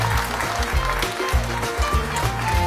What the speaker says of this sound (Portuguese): Uma salva de palmas para o Padre António Rego, Sheikh David Munir da Mesquita de Lisboa e o Rabino Nathan Pérez